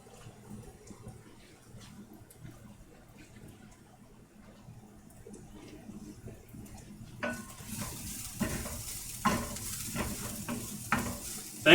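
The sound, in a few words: garlic sizzling as it cooks in a pan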